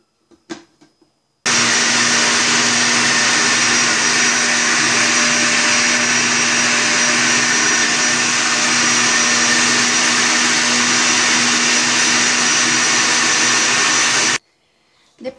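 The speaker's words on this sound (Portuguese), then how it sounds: "Agora nós vamos bater aproximadamente por uns 2-3 minutos na velocidade máxima." Blender whirring at maximum speed as it mixes homemade Danoninho, a steady loud motor roar lasting about thirteen seconds that starts and stops abruptly, with no talk.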